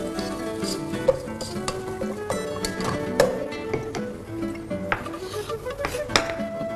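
Capsicum and carrot are stirred in a pan while making veg rice, with close scraping, clattering and a soft sizzle, some sharper knocks standing out over a steady busy kitchen bed.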